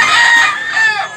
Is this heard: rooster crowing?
yes